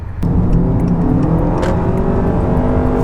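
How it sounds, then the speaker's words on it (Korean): A Honda Accord hybrid's engine kicks in from electric mode while driving. The whirring engine note rises suddenly and stays loud and steady under acceleration, heard from inside the car. "전기 모드로 가다가 제가 손가락질 하는 순간 엔진이 깨어났습니다."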